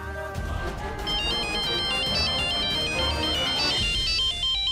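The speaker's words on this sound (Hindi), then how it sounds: "फोन उठा लो ना साहिल प्लीज।" A phone ringtone plays continuously, a bright repeating melody over a steady background, loud and close with no voices.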